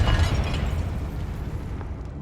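A Confringo fire spell from Hogwarts Legacy bursts with a loud, close explosion, a deep booming blast with crackling fiery spray at the start that rumbles and fades over about two seconds.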